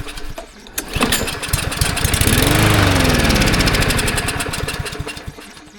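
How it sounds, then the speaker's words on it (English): A gunked-up carburetor lawn mower engine sputters to life on carb cleaner, revving loud and rough for a few seconds with steady firing, then fades out and dies near the end. "She'll fire up on some carb cleaner, but die right away"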